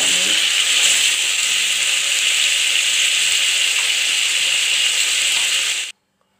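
Vegetables for a vegetable biryani sauté in a pan with a steady, loud, hissing sizzle that runs unbroken for about six seconds, then cuts off abruptly into silence.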